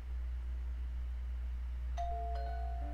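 An electric doorbell outside a home recording studio chimes twice in a clear ding-dong over a constant low hum, the second tone ringing out and fading slowly.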